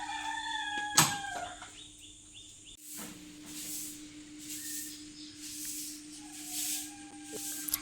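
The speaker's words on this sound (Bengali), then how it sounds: "দেখো বাইরে কি সুন্দর মোরগের ডাক শোনা যাচ্ছে।" A rooster crows outside a house in the morning, a faint drawn-out call early on against a steady hum and quiet room noise, with no talking.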